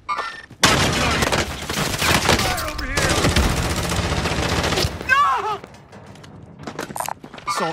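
Rapid bursts of assault rifle fire in a Call of Duty Modern Warfare match, loud and near, running almost continuously with short pauses, mixed with game effects and faint voices.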